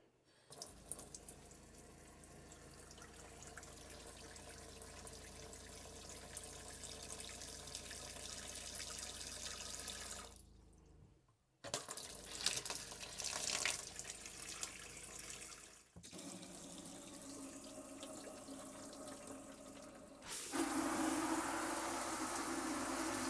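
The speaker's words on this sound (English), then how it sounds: "we'll go around to each individual outlet and turn them on for around about 10 to sort of 15 seconds on hot and cold" Hot and cold taps turned on one after another, water running steadily into a sink for long stretches with brief cutoffs between outlets, the flow changing tone as each tap opens.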